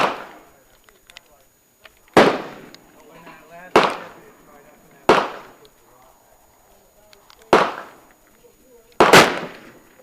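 Five loud, close gunshots from a 9x25 Dillon pistol firing 125-grain loads, each a sharp crack with a short decaying echo, spaced a second or two apart at an uneven pace, with faint talking between shots.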